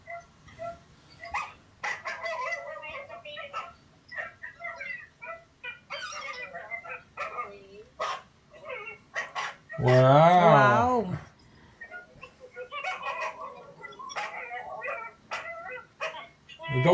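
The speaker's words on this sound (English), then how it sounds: "The dogs are excited." Dogs bark and whimper in short bursts amid people talking in the Philippines, with one louder, longer excited yelp in the middle.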